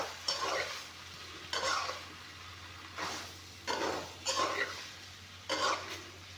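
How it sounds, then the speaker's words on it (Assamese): Potatoes fry in a pan with a soft background sizzle, while a utensil scrapes and stirs them in repeated bursts about once a second, each spaced by quieter frying. "এতিয়া অলপমান টাইম ভাজি ল'ম"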